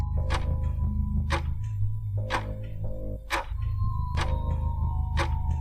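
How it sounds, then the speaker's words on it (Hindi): A wall clock ticks steadily in a silent house, sharp regular clicks roughly once a second over a low droning background, with no voices. "पूरे घर के सन्नाटे को सिर्फ एक ही चीज़ तोड़ रही थी, और वो थी घड़ी की आवाज़"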